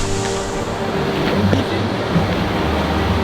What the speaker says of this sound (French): Mais les gars on a découvert une cascade.